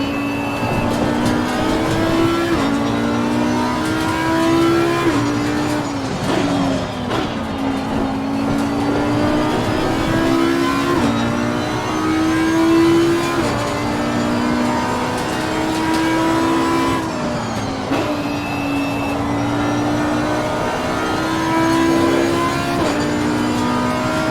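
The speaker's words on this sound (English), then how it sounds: "listen to this car and see how it roars for the whole lap" A race car engine in the Assetto Corsa Competizione video game roars and revs continuously through a full lap, pitch climbing and dropping through gear shifts and corners, loud and close throughout.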